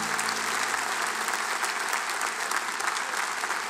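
Sustained audience applause fills a concert hall at Sala Palatului during a symphonic Cenaclul Flacăra show, as a performer leaves the stage, with dense steady clapping from a large crowd throughout.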